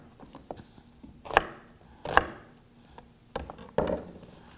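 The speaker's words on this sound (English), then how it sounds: "And then cut slices about 1 inch thick." A kitchen knife slices vegetables for roasting into thick slices about an inch wide: a handful of separate, crisp chops land on a cutting board at uneven intervals, close and fairly quiet, with no talking.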